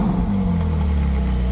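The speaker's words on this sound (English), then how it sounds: "Hey, give it a little rev there" A Ferrari F458 Spider fitted with a Forza exhaust, valves open, revs close by, a loud deep engine roar rising and holding steady for the whole moment.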